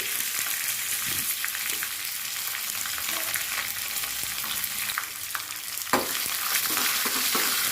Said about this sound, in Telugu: ఇందులోనే ఆవాలు, జీలకర్ర, 2 ఎండుమిర్చి యాడ్ చేసుకుందాము. అలాగే ఆనియన్ కరివేపాకు కూడా యాడ్ చేసుకోవాలి.